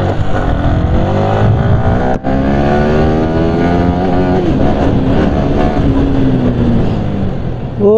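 A Yamaha R15 motorcycle engine revs loud and close, its pitch climbing and falling through several throttle sweeps as the bike pulls away, with a harsh buzzing exhaust throughout.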